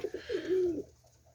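Fantail pigeons waiting to be fed give a soft, close coo made of a few short rising notes and a longer held tone, faint and alone.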